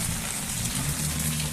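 Steady rain pours onto a soaked street under a white sky, a dense, even hiss of drops close by with no voices.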